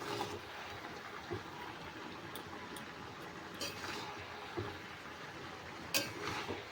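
Greens and mixed winter vegetables stirred in a pan, faint scraping and soft wet clicks at uneven intervals over a steady low hiss.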